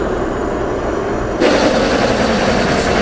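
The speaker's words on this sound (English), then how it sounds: "Now our metering augers will run." A Bourgault X30 air seeder with 7000 tank, where the metering augers start running once the master clutch engages, so a steady mechanical drone jumps louder and fuller over the ongoing engine hum, with no talk.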